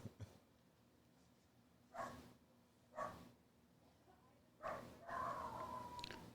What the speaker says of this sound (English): We got a dog fight outside.